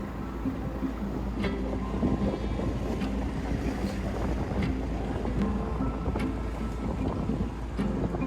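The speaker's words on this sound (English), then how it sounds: "The wind up the ICW was growing in strength from the south" Strong wind buffets a sailboat motoring up the Intracoastal Waterway, a steady loud rush with low rumble of hull and engine underneath, no voices.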